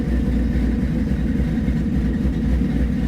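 A Coyote-swapped Ford F100 truck engine idles close by, a steady, loud low rumble with a slightly uneven, lumpy pulse and no talking over it.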